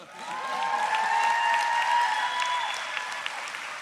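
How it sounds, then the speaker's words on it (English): Commencement audience applauding a group of special education and language literacy graduates at The College of New Jersey, a steady sustained roar of many hands clapping that swells and slowly tapers, with a few faint voices mixed in. "giving another final round of applause for this distinguished group"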